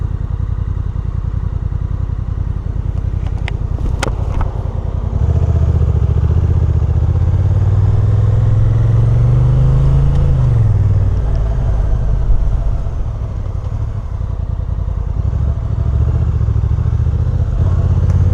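Engine of a 2025 Honda NT1100 DCT automatic motorcycle riding at low speed through commuter traffic, a steady loud low rumble throughout with a rising then falling drone in the middle and brief clatter near the start.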